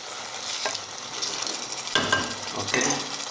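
A spoon stirring carrots and canned tuna in a hot pan, steady sizzling frying underneath with several distinct scraping stir strokes, close and moderately loud, no voices.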